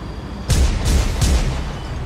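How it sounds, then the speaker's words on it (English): Gunshots ring out in an audio drama street scene, three loud, sharp bangs in quick succession at moderate distance, each with a short booming tail, with no talking. "Then Batman heard the sound of gunshots and leapt off the roof"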